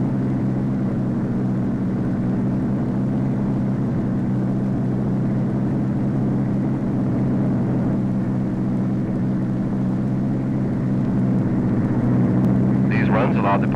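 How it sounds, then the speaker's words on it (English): Engine drone from a Convair model 7002 research airplane during high-speed taxi runs and short flights off the runway, a steady loud rumble holding for many seconds with faint brief sounds near the end. "a number of high-speed taxi runs and straightaway flights just off the runway were made"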